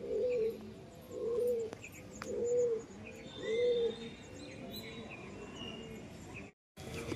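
Pigeons in a loft coo in a slow series of about four rounded, repeated calls, fairly close, with faint chirps and light background noise between them.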